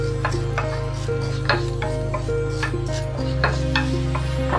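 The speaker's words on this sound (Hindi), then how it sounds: "मेथी को भी थोड़ा सा कलर चेंज होने तक फ्राई करेंगे।" Fenugreek seeds fry with chana dal and urad dal in a pan, with a steady sizzle and a rhythmic scraping stir throughout over a constant low hum, close by and with no talking.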